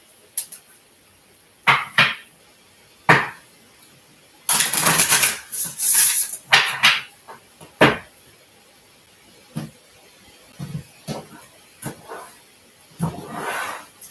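Cards riffle and snap in a series of quick bursts, with a longer flurry of shuffling in the middle and scattered clicks and taps, close up.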